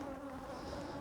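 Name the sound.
honey bees buzzing around beehive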